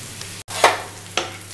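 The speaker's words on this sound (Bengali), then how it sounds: "তো এই দুটো আমি একটু ভাজা ভাজা করে নিয়ে তোমাদের কাছে ফেরত আসছি" Chopped capsicum frying in a pan for a noodles keema omelette, with a steady low sizzle broken by two louder scraping stirs of the spatula; no one speaks.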